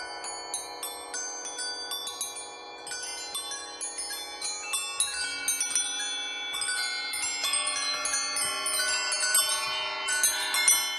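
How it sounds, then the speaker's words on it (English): Bells collected from around the world ring together to close a musical piece, a dense shimmering wash of overlapping metallic strikes and long sustained tones, building steadily in density with no talking. "We've kind of collected these bells from all over the world and found a single piece in which they can all kind of coexist."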